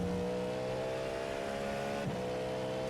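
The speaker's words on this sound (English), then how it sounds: "Hands down, best sounding car in iRacing right now." A race car engine in the iRacing simulator drones steadily at high revs, loud and continuous, with a brief gear change near the end and no voices.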